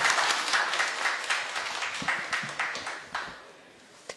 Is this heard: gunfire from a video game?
no